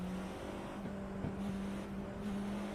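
Porsche 963 GTP race car engine idling steadily in the iRacing sim, a constant low hum with a faint whine above it, unbroken and without talk.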